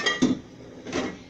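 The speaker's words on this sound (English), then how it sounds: "We're going to get a frying pan really quick." A metal frying pan is pulled out and handled in a home kitchen while cooking enchiladas, giving two short clanks, one near the start and one about a second later, close and fairly quiet.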